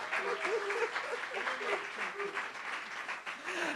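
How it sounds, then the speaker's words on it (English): Applause from an audience at a creative evening event honouring a newly published authoress, steady dense clapping over the whole stretch with a few voices and faint tones mixed in. "I think we owe you a round of applause"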